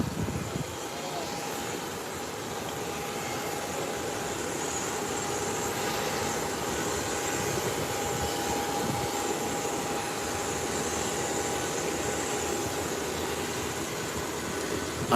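A United Airlines airliner taxis toward its parking gate at an airport, a steady distant jet engine rumble and whine holding evenly throughout with a faint tonal hum.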